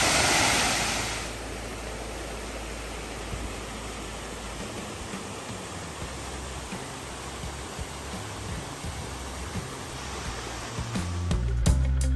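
Rushing water from a falls along the Ricketts Glen Falls Trail in a wooded state park gorge, a steady broadband roar close by that holds constant with no voices over it.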